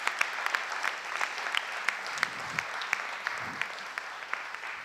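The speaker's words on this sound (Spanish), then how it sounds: "quiero pediros un aplauso y un abrazo muy cariñoso también para ella" Sustained audience applause at a housing rights event in Iruña, dense steady clapping from a crowd with a few sharper claps standing out throughout.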